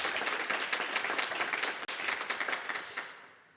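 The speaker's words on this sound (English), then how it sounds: "applause." Audience applause for a panel and its speakers at an AI literacy discussion, many hands clapping in a dense, steady patter that holds briefly and then tapers off toward the end.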